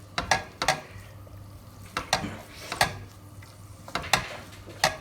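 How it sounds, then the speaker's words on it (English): Spoon stirring Worcestershire sauce into a meat and onion mixture for a tater tot casserole, with several sharp scraping clinks against the pan and soft sizzling underneath, close and fairly quiet. "So I'm just going to quickly mix that in."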